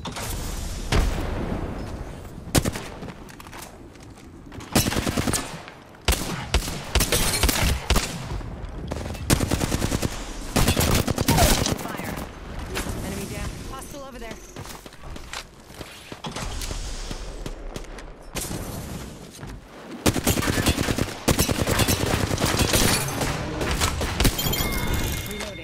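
Sustained, dense automatic gunfire from a Flatline rifle in the Apex Legends video game: loud rattling bursts broken by short pauses, with explosions and in-game voice lines mixed in.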